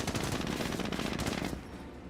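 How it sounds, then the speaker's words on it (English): A .30 cal machine gun in Company of Heroes firing a rapid, steady stream of shots for about a second and a half before tapering into quieter background, somewhat distant and fairly faint. "30 cal firing away, finds some Panzer Grenadiers."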